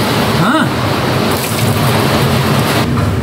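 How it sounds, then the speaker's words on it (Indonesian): Heavy rain is driven by strong wind, making a steady, loud wash of noise with gusty swells. A voice speaks faintly underneath. "Hujannya sebenarnya gak terlalu kenceng, cuman anginnya sing kuat banget."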